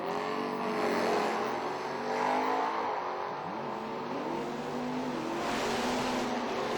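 A drag racing pair, a Mustang against a Chevelle, roars down the strip, loud engines revving and sweeping past with rising and falling pitch throughout.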